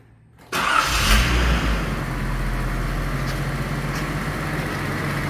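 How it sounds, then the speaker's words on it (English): A 1982 Datsun 280ZX cranks and catches after a moment of quiet, then settles into a steady, loud idle that runs on without pause, with no voices over it. "So we will start by starting my car."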